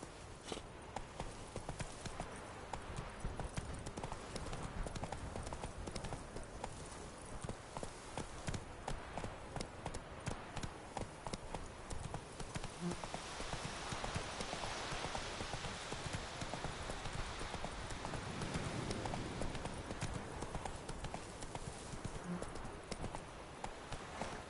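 Hooves of the horse Roach galloping in the game Witcher 3, a fast steady clip-clop running throughout over rain-like patter, with no talk.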